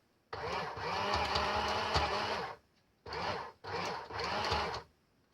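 Sewing machine stitching a strap closure for an accordion art journal, one long run of steady whirring followed by two shorter bursts, close and clear with no talking.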